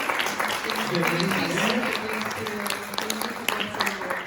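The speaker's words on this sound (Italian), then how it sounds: "io innanzitutto voglio chiedervi un grandissimo applauso per Adele Tulli" An evening audience at an Italian film talk gives sustained applause, a dense wash of clapping filling the whole stretch, while a voice or the murmur of the crowd carries faintly beneath it.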